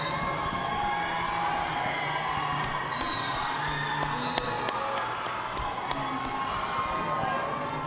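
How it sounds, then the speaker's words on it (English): A steady crowd roar with cheering and whoops fills a youth roller derby bout between Kitsap Derby Brats and Rocky Mountain Roller Punks, continuous and fairly distant, with scattered claps. "Let's give a big round of applause and a big high five to the Kitsap Derby Brats D-Bombers."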